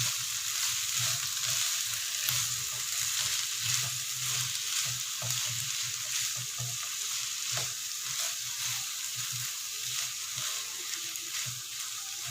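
A spoon stirs a spice mixture with coriander powder, cumin seeds and garlic powder through a hot pan, giving a steady sizzle and frying hiss with soft scraping under it, no voices.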